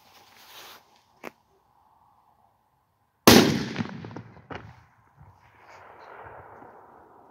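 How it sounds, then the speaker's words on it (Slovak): An Achtung H4 firecracker of about four grams, set off outdoors during a Christmas pyrotechnics session, bursts with one sudden loud bang followed by a rolling echo that fades over several seconds, after quiet fuse hiss and a faint earlier click. "tak máme poslednú petardu, Achtung H4"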